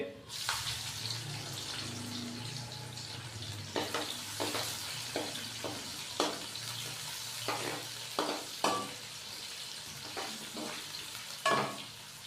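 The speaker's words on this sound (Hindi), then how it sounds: "खड़े मसालों को 1 मिनट फ्राई करने के बाद अभी हम इसके अंदर 2 से 3 अदद बारीक कटे हुए प्याज डालेंगे" Whole spices and finely chopped onions frying in a pan for a green chana pulao, a soft steady sizzle broken by repeated scraping strokes of a spoon, with faint talk in the background.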